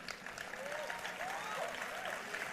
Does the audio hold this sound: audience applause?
yes